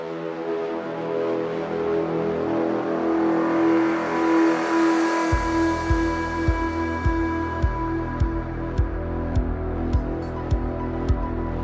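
A Dodge D100 shortbox pickup, pulled out of the weeds, is towed to town: a steady road-vehicle drone with engine and tire noise, plus regular thumps as the truck rolls along. No one speaks.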